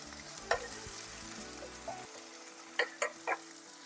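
Tomatoes sautéing in a pan for vada curry gravy, a low steady sizzle with a few sharp scraping stirs of a spoon near the end, no voices.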